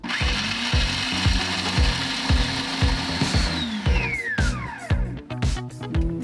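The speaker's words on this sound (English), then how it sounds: "So I'm gonna add about a cup of hazelnuts into our food processor." Hazelnuts, about a cup, pulsed in a food processor for a tart crust: a series of short, loud whirring bursts with the nuts rattling and clattering against the bowl, then the motor whining as it spins down.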